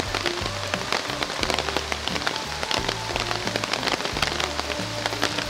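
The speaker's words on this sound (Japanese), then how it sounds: "今日は昨日よりも激しい雨が降ってます。" Heavy rain pours steadily on a terrace in rural Kyushu, Japan, a dense, loud, continuous patter of drops striking hard surfaces close by, with no voices.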